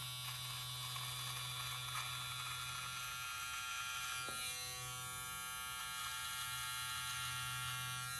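Hnice 11500 RPM electric hair clippers trimming close, a steady high-pitched motor buzz with a constant hum throughout, a brief clipping scrape midway, no talk.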